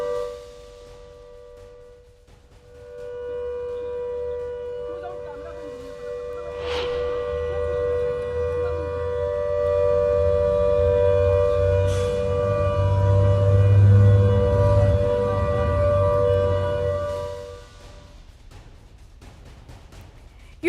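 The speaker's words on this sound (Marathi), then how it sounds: "मुंबईत बऱ्याच ठिकाणी 9 वाजण्याच्या दरम्यान सायरन वाजवण्यात आला" A civil defense mock drill siren sounds across Mumbai, a steady sustained wail holding for about fifteen seconds with low rumbling background noise, rising slightly in loudness before fading near the end.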